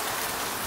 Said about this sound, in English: down came the hail